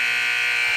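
Game clock buzzer sounds at halftime of a varsity boys high school basketball game between Garrett and Westview, a steady loud electronic tone sustained throughout without talk.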